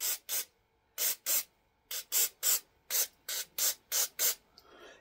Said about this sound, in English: Let's give her a spray off.